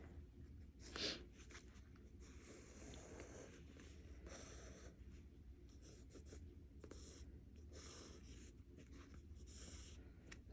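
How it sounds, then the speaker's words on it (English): Pencil tracing the outline of a letter A onto fabric for a MAMA shirt, a soft continuous scratchy rubbing that runs steadily at close range, with one brief sharper scrape near the start and no talking. "I'm just going to take a pencil or pen, whatever you would like, and I am going to trace this A."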